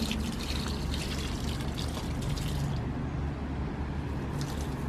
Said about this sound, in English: Just gonna water them up.